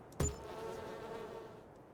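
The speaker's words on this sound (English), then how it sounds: "Bees in my ear every time I place it" Steady insect-like buzzing from bees placed in Farming Simulator 22, starting with a brief thump and then holding an even, moderately loud drone throughout.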